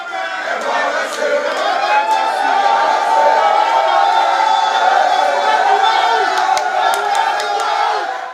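Large crowd of family, palace functionaries and well-wishers celebrating outside the Benin palace, a loud continuous mass of cheering, shouting and whoops with scattered sharp accents, sustained throughout.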